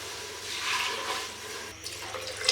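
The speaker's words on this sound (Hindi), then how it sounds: "तो अब हम इनको बॉयल करने के लिए इसमें पानी डालते हैं।" Water splashes and pours steadily into a metal pressure cooker, a soft continuous gushing with no voices.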